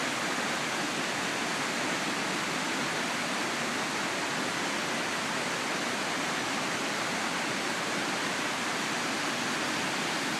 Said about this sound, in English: you can see a lot of volume of water, really rolling